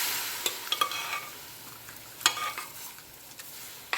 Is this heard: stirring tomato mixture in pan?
yes